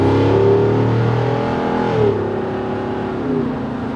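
A deep V8 exhaust note from a 2022 Jeep Wrangler 392 rumbles and revs close by, its pitch sliding up and down in steady, loud waves.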